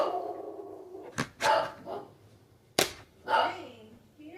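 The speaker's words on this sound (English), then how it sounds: "Dang, Peter had a big bark." A large dog barks outdoors in loud, separate bursts: a sharp double bark near the start, then two more single deep barks spaced apart, close and prominent over a low background murmur.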